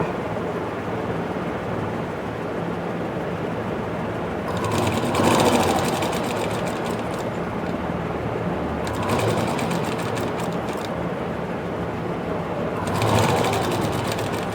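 A sewing machine stitches a saree fall using a normal presser foot, running in three distinct bursts of rapid mechanical whirring and clatter, close and fairly loud, with quieter pauses between runs.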